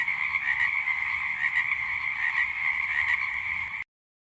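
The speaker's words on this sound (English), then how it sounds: "he could hear growls, croaks, and snarls coming from different parts of the lake" A dense chorus of frogs croaks continuously, a steady buzzing trill from many animals at once, cutting off abruptly at the end.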